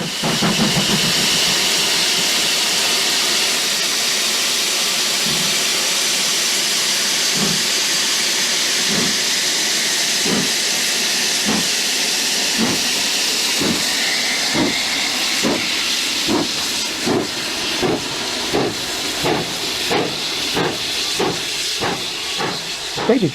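Steam locomotive Rood Ashton Hall hisses steadily with broad steam noise, then begins a rhythmic run of strong exhaust chuffs that quicken and grow regular as it prepares to depart, loud and close throughout.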